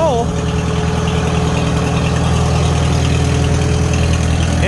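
A 1949 Farmall H tractor engine runs steadily and loudly up close, a continuous low throb with no breaks, and a voice speaks briefly over it at the start.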